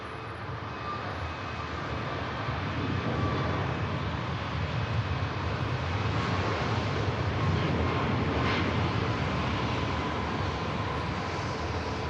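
An Air France airliner arriving at Manchester Airport, a steady broadband jet roar that holds constant and fairly loud throughout, with no talk over it.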